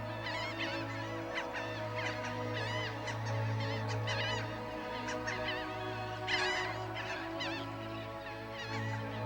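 Mixed colony of coastal birds roosting side by side in island trees on the Texas coast, a dense chorus of honking, goose-like calls and scattered squawks over a steady low hum, moderately distant.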